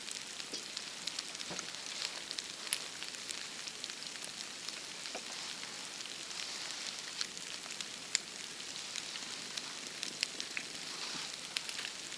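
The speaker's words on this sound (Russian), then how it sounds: "Дождик." Soft, steady patter of light rain in the taiga with scattered drops ticking on a surface, continuous and fairly quiet, no voices.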